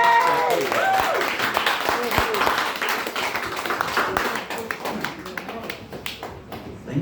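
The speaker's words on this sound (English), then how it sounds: "big round of applause for Jamie." Audience applause at a live show in a small venue, a burst of close clapping that gradually thins and fades over several seconds.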